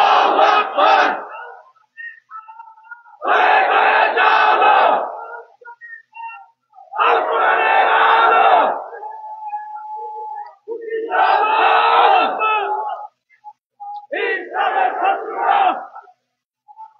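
A crowd at a religious gathering chants takbir in loud, rhythmic bursts, five surging shouts separated by short pauses, with a faint whistle between them.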